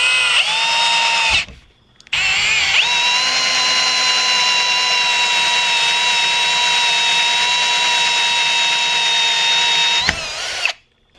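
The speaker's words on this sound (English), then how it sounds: "So let's go ahead and drill a hole in this flat PVC cap here." A power drill bores a hole through a flat PVC cap. One brief spin-up is followed by a pause, then a long, loud, steady high-pitched whine of about eight seconds before it cuts off.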